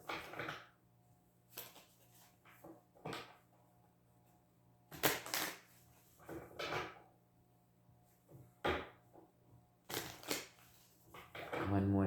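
Tarot cards being shuffled during a reading, heard as several separate bursts of crisp riffling and slapping, each a second or less, spread through a quiet stretch with soft room tone in between.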